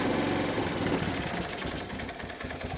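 A Kawasaki KLT185 three-wheeler with a sticking throttle, just pulled from a snowbank, runs close by with a loud rattling, buzzy engine note that sags slightly as the revs drop partway through.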